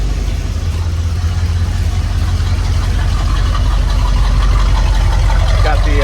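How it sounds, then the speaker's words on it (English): A Kia Soul engine with new exhaust and replaced mufflers runs at a steady, low idle, a continuous rumble filling the whole stretch without any talk. "we'll do a little start on the car here"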